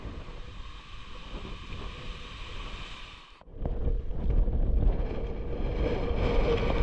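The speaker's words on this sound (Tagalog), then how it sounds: "malakas talaga yung hangin at maulap." Strong typhoon wind buffets the microphone with a heavy low rumble under cloudy skies, easing briefly midway before gusting back even louder.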